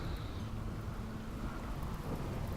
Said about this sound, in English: Oh, it's raining now. That'll put the fire out.